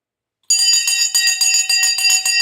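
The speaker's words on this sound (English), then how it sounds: "The bell has gone." An electric bell rings continuously in loud, rapid repeated strikes, starting abruptly after a short silence and keeping an even shimmering pulse throughout.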